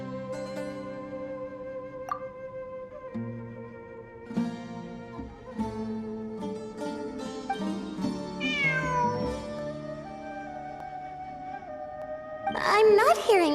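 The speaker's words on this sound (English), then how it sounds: "It really is a cat." A cat meowing in the Genshin Impact video game, a series of drawn-out, tonal mews heard fairly close over game music, ending in a louder, higher cry, with a voice talking in between.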